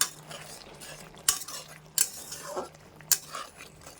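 Potol posto, pointed gourd in poppy seed paste, being stirred with chopped coriander in a pan, with a few sharp utensil clinks and scrapes over a quiet background.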